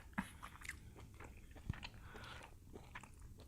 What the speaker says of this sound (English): you're getting a lot of good chewing noises too